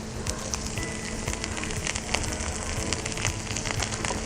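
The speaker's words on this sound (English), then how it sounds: "we're just going to put a small handful of each vegetable into the pan" Vegetables frying in oil in a hot pan, a steady close sizzle with scattered small crackles and pops, no voices.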